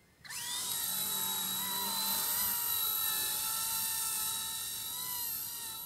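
A radio-controlled mini scale helicopter spools up for takeoff, its high-pitched whining rotor and motor rising quickly and then holding a steady, loud, close drone, with no talk.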